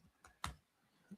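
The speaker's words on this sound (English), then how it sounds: "my typing is terrible" A few soft, quiet clicks of typing on a computer keyboard, sparse taps spread over about a second with no talking.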